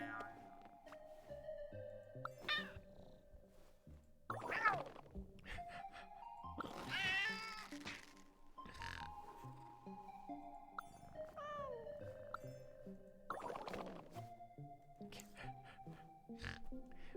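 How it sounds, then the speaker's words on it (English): A cat meows several times in a video game pet minigame, with short mewing calls scattered over quiet game music and ambience. "Pet the kitty."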